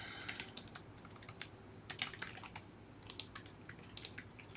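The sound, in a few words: typing on a computer keyboard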